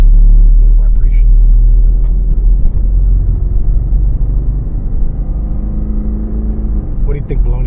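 A Cadillac Northstar engine idles with a steady low rumble and a slight vibration, close and continuous, while a person talks over it near the end.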